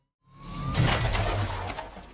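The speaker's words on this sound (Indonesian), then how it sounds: "polisi tersebut menabrak spion mobil Gary hingga pecah" A car side mirror shatters after a police motorcycle strikes it in a film scene. A sudden loud crash of breaking glass gives way to a scattering, tinkling rattle of debris, backed by a low rumble.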